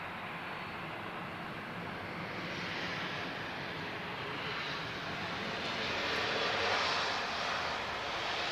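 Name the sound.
EasyJet Airbus A320 arriving at Lisbon Airport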